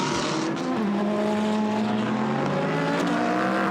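GT race cars, Lamborghinis and Audis, pull out of the Monza pit lane during qualifying in a dense, loud wash of engine noise, several motors revving and shifting together with rising and falling pitch, no voices.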